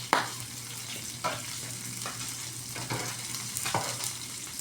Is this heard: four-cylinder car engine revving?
no